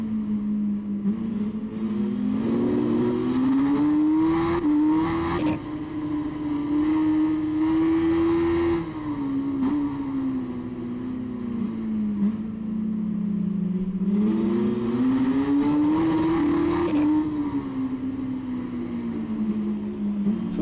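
A racing motorcycle engine in the RIDE 5 game held near full throttle, a loud steady drone whose pitch rises and falls with gear changes and acceleration, running continuously without talk.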